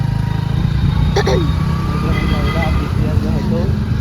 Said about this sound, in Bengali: এই যে এখন আমরা কিন্তু বেরিয়ে পড়েছি বাইক নিয়ে